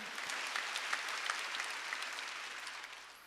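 A church congregation at a Sunday worship service claps in rhythm, a dense, even spread of many hands sounding fairly distant and steady, with no talk over it.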